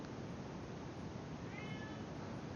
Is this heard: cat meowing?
yes